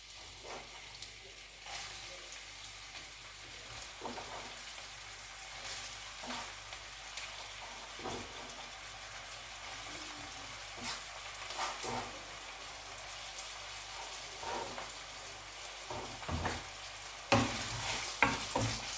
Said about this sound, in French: Je mets l'huile dans ma poêle et l'huile est bien chauffée. Et je vais mettre maintenant mes oignons dans la poêle.